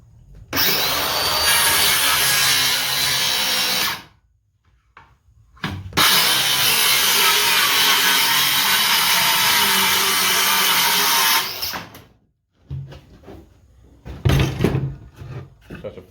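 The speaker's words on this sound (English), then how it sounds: "I'm just going to go ahead and grab my circular saw." A battery-powered circular saw cuts through a scrap board from a sawmill in two long, loud, continuous passes, each about four to six seconds. A short burst comes between them, and quieter handling knocks and clatter follow.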